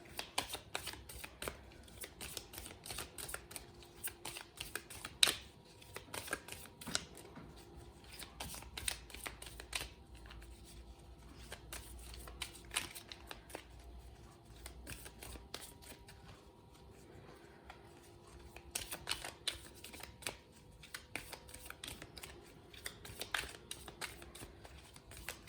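Tarot cards being shuffled and drawn, a steady run of crisp riffling and soft slaps that go on for the whole stretch, close and moderately quiet, with no one speaking.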